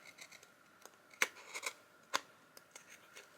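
Scissors cutting a paper strip for a travel journal page, a few sharp, close snips and soft scraping rustles spaced unevenly across a quiet room, with no talking.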